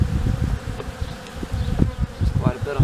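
Honey bees hum in a dense, continuous drone around an opened hive in a collapsing arborvitae colony, close and steady with faint background rustling.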